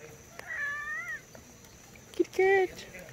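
A cat on a stoop outdoors gives two short meows, the second louder and closer, with a brief sound between them and a quiet outdoor background.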